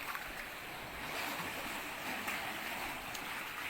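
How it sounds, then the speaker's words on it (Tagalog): Waves wash and churn continuously around a boat at sea at night, a steady broad rushing surf sound with no voices. "So, medyo malalaki lang yung alon na yun."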